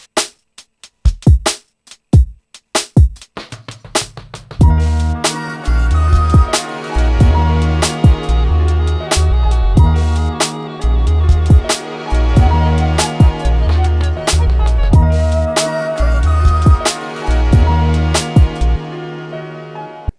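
A loud beat with punchy drums and bass under layered breathy flute melodies, starting with sparse hits before the full groove kicks in.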